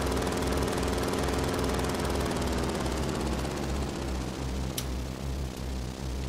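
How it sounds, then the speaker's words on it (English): The engine of a low-polygon helicopter in the Final Fantasy VII video game gives a steady, loud, droning rotor hum that runs unbroken throughout, with no voices. "And that low polygon helicopter."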